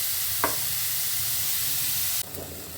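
Bitter gourd and eggplant frying in a pan, a steady close hiss with a couple of brief spatula scrapes, the sizzle flaring brighter near the end.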